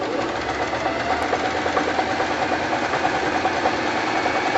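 A sewing machine stitches a sandbag with a steady, loud, close mechanical hum and fast rapid ticking, running without pause.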